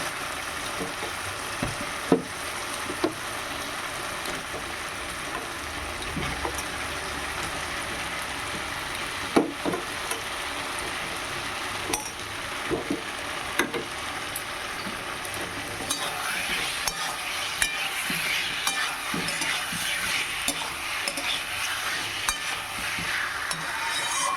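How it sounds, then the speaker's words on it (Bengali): Potatoes and cauliflower stir-fried in spiced oil in a pan, continuous sizzling under repeated clacks of a spatula scraping and knocking the pan at an uneven pace, close by, no talking. "আলু আর ফুলকপিটা খুব ভালোভাবে কষিয়ে নেব"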